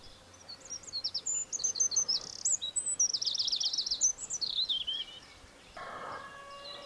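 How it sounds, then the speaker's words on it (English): A maroon-backed accentor on a village road gives a string of high, thin chirps and rapid trilled phrases, fairly close but soft over quiet outdoor background, with a brief rustle near the end. "This is a maroon-backed accenter foraging on village road."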